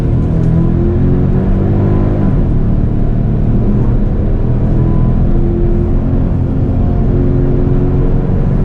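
A Genesis G70 Shooting Brake pulls away and drives on, its engine and road noise forming a loud, continuous rumble with a rising whir, with no voices over it.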